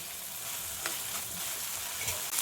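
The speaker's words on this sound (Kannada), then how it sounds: "ಒಣ ಮೆಣಸಿನಕಾಯಿ, ಇದೆಲ್ಲ ಹಸಿ ಸ್ಮೆಲ್ ಹೋಗೋವರೆಗೂ ಫ್ರೈ ಮಾಡ್ಕೊಳ್ಬೇಕು" Dry red chillies and green chillies sizzle gently in a pan while being fried for palak paneer, a soft steady crackle with a few light stirring scrapes.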